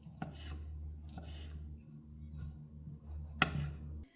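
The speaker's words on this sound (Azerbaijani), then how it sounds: "Toyuğun but ətini xırda doğrayıram." A knife finely chops chicken thigh meat on a board, a few soft close thuds and scraping strokes spaced apart, with one sharper knock near the end.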